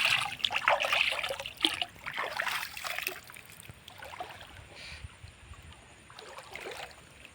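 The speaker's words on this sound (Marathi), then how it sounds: "भरपूर पाणी आहे, बघा केवढं पाणी आहे." Village stream water trickles and gurgles at moderate level, busier in the first few seconds and then settling into a softer, steady babble under an overcast sky, with no one talking.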